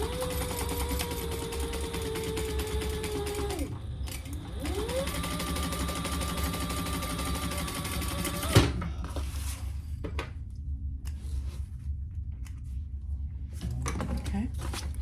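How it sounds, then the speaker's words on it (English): A sewing machine stitching a seam on a Traveler Pouch, two sustained whirring runs with rising and falling motor pitch, then a sharp clack and quieter handling noises, with talking in the background. "stitch that together at the seam allowance in the pattern"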